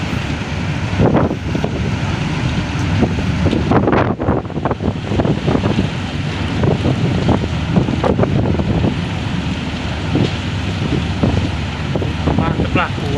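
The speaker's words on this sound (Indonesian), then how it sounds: "Angin besar, Nusa Putra sulit untuk keluar." Strong wind over the Sunda Strait buffets the microphone with loud, gusty roaring, mixed with churning water and the engine-like rumble of a barge; voices talk intermittently underneath.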